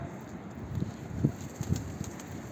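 Pigeons in a loft, with soft low coos and bird sounds rising in a few faint bursts over steady background noise.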